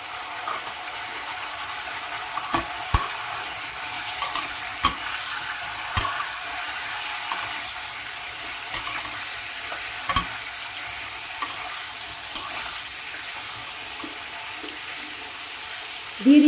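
Mixed vegetables with chunks of a large ridge gourd fry lightly in a pan for a vegetarian curry. A low, constant sizzle carries irregular spatula knocks and scrapes every second or so, close by, with no voices.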